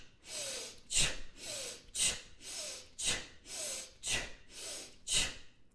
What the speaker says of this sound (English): So you breathe in